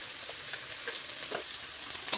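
Bamboo shoots with spices and tomato sizzle quietly in a pan, with soft intermittent scraping as they are stirred and a brief louder clink at the very end.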